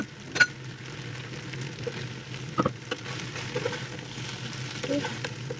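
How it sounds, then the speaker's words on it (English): Sausage spaghetti is stirred gently in a hot pan with tomato puree, giving a steady low sizzle broken by a few soft scrapes and knocks of the spoon, close and fairly quiet. "You stir gently to reduce the heat and stir it."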